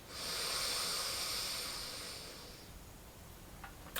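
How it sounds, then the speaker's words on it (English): A steady inhale drawn through the left nostril during alternate nostril breathing, a close, airy hiss that holds for about two seconds and then fades to quiet. "Inhale through left."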